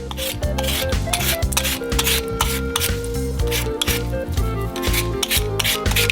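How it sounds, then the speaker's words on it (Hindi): Dirty potatoes scrubbed by hand in a water-filled sink to clear soil and leftover eyes, a steady, close rasping rub that runs continuously under background music. "प्रत्येक आलू को गंद से साफ करेंगे"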